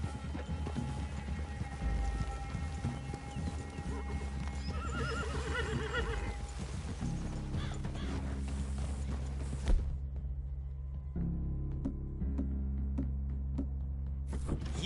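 Horses in a Western-style game walk and clip-clop on a woodland trail, with a horse neighing and whinnying partway through, steady hoof taps and faint creaks running under a continuous ambient bed.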